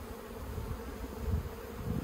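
Honey bees hum around an open hive during a colony split, a soft, steady, close buzz that swells slightly midway, alone without voices.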